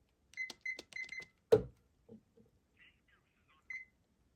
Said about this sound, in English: So I'm going to make a call I'm going to call my other extension from this phone.